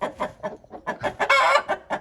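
Backyard chickens clucking loudly and close in a rapid, choppy series of squawks, one longer raised cackle in the middle, no voices.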